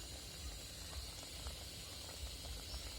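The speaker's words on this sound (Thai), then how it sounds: "มันกำลังเดือดปุดปุดปุด" Bamboo shoot curry with chicken boils in a pot, a steady hiss of steam with faint irregular bubbling beneath, close and continuous.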